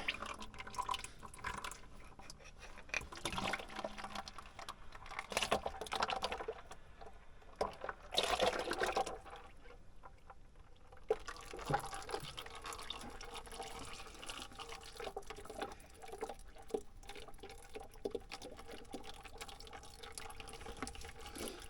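Fluid drains from a Zetor tractor during servicing, a faint, uneven dribble and drip with soft splashes into a container, quiet and close with no talking.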